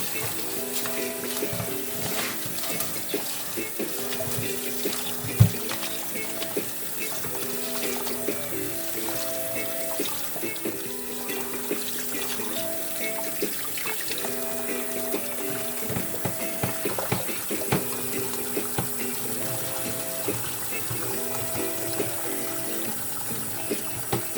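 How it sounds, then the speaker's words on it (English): Rice being washed under a running kitchen tap, a steady stream of water with light sloshing and soft clinks as grains are rinsed, continuous and moderately close, no voices. "Alright, so I'm going to wash the rice."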